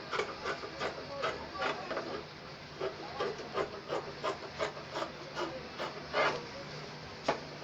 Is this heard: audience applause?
no